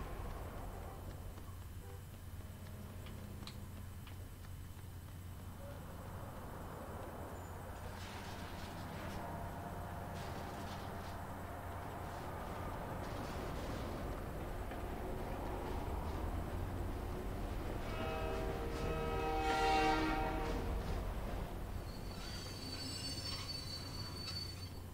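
A Stillwater Metro train in the Saints Row video game rolls past steadily, with rumbling wheels and rising metallic squeals growing louder toward the middle before easing off.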